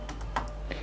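Typing a pip install command on a computer keyboard, heard as a few quick, soft key taps over a steady low background hum with no talking.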